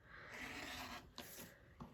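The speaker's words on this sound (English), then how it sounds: "And then start cutting your 2-inch strips again." A rotary cutter or blade slices through quilting fabric to make 2-inch strips, a soft continuous rasping drag with a couple of brief sharper scrapes, faint and close.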